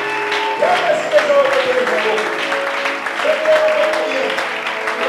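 A church congregation applauding and cheering for the Lord, a steady wash of clapping and voices that fills the whole stretch, with someone speaking over it.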